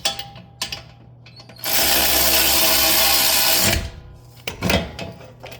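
A power tool, likely an impact driver, runs for a sustained two-second burst while setting the wheel hub bolts on a 2018-2021 Chevrolet Equinox 2WD, framed by clanks and handling noises before and after.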